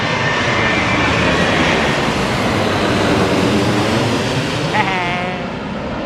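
An airliner arriving to land at Changi roars loudly and continuously overhead, its engine noise steady and close throughout, with faint voices talking underneath.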